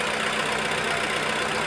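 Freshly rebuilt Proton Exora CPS car engine running just after first start, a dense, even idle drone held close and loud with no pauses or voices.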